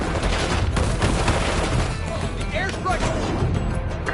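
Rumbling explosions and bursts of gunfire from an airstrike in the Call of Duty Black Ops 6 video game fill the mix with dense, continuous loud blasts, while radio-style voices talk over them.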